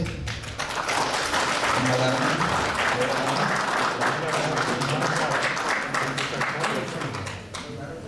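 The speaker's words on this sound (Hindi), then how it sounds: "जोरदार तालियों से" Sustained clapping from the gathered audience at a farewell ceremony for panchayat secretaries at the Central Training Institute in Ranchi, loud and continuous with voices mixed in before it fades near the end.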